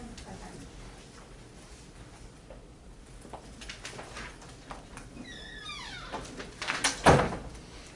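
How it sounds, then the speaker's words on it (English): An indoor door is opened or closed noisily: a rising squeak in the middle, then a loud clunk and rattle near the end. A low room hum runs underneath throughout. "Noisy door."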